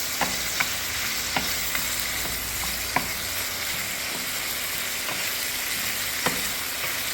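Prawns frying in butter in a pan on an electric stove, with a steady close sizzle and occasional sharp stirring clicks and scrapes throughout.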